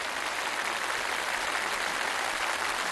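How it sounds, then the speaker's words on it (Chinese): An audience applauds at a traditional Chinese medicine conference, a steady dense clapping that stays even for the whole stretch, close and full, with no voices over it. "我们也再次用最热烈的掌声向我们的传艺人致敬"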